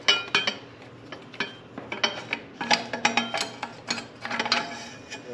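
Ratchet wrench loosening an exhaust head pipe nut on a 2024 Honda CRF 250RX, with quick repeated metallic clicks and clanks in uneven bursts, close up and fairly loud.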